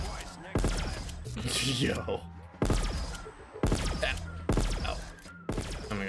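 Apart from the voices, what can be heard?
Ray Stake 12 burst shotgun firing, Black Ops 3 Zombies video game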